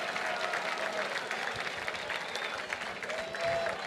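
Guests at an outdoor-adventure organization's annual gala applaud their supporters, a steady, fairly even round of many hands clapping that fills the room without pause.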